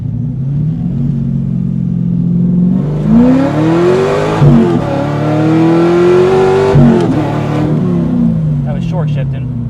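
A widebody C5 Corvette with an LS7 swap accelerates hard from inside the cabin, engine note climbing through gears with quick short shifts and brief dips between, loud and close, with people talking over it.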